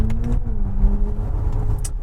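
Inside a 2025 Genesis GV70 EV on the move, a steady, low synthetic engine note imitating a straight-six fills the cabin, a smooth hum with slight pitch shifts and no talk.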